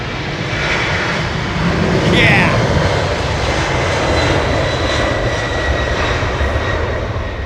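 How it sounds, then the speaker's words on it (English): Pratt & Whitney jet engines on an airliner at Heathrow Airport roar as a steady, loud, broadband drone that swells slightly midway and holds for several seconds without a break. "Listen to these Pratt & Whitneys, man."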